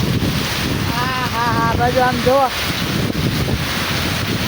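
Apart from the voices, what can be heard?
wind and rain in a village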